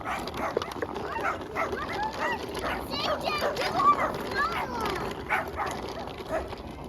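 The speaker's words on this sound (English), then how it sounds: "We got the neighbor dogs barking at us." Neighborhood dogs bark and yip repeatedly at a nearby family out on bicycles, a busy cluster of overlapping calls at moderate distance with outdoor noise underneath.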